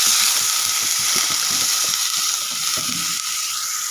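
Water is poured into pangas fish masala frying in a pan, setting off a loud, steady sizzle, with faint stirring clicks underneath.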